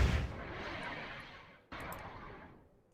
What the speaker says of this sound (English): I'm going to drop some artillery.